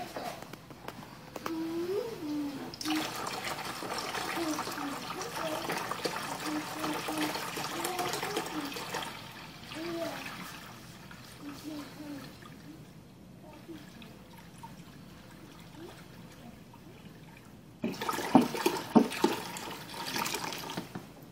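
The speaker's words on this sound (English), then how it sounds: "let me fill up my tank with water" A tank being filled with water for a pump test, a continuous pouring and splashing flow that changes pitch as the level rises, then drops away before a louder splashing burst near the end.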